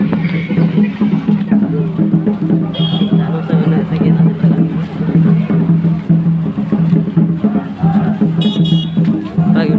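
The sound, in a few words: large crowd at Adivasi protest rally blocking road in Bokaro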